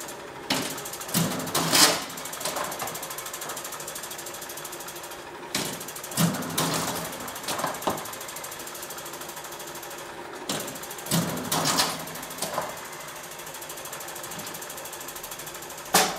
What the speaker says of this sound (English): And that's now stitching and folding.